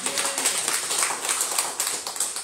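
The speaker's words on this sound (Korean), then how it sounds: "다시 크게 영광의 박수로 하나님께 영광을 드리시겠습니다" Church congregation at a Thanksgiving Sunday worship service applauding together, a steady dense patter of many hands clapping, moderately loud with a faint voice or tone beneath at the start.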